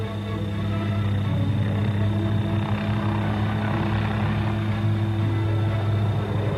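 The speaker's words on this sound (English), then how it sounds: "The scout helicopter continues to monitor the target." Steady, continuous rotor and engine drone from a military helicopter in flight, a constant loud hum with no change in level and no voices over it.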